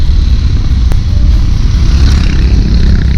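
A loaded motorcycle cruising on a freeway at about 40, giving a steady, loud engine and wind roar that runs unbroken from start to finish with no talk over it.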